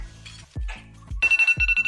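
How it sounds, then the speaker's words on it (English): Electronic timer goes off in a run of loud, rapid pulsed beeps, with earlier softer tones and low thumps before it, close by and with no talking. "And there's my timer."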